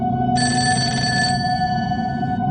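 Telephone bell ringing in a steady electronic trill, starting shortly after the start and fading near the end, over a continuous background hum.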